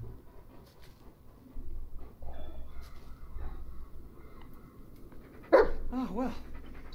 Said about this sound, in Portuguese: Isso aí, o cachorro voltou.